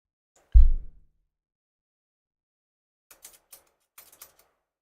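A cigar cut with a bullet cutter gives one firm, low snap near the start of the clip. After a long quiet gap come a few faint, light clicks and taps.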